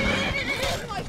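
A horse in the Skyrim video game gives a loud, drawn-out neigh with a wavering whinny, close up, while someone talks over it.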